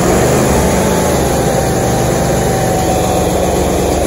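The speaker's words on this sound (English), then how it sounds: "as you can tell, it will run on choke" A John Deere X330 lawn tractor engine, left sitting for three to four years, runs on choke with a loud, steady, rough idle throughout, close by and with no talking.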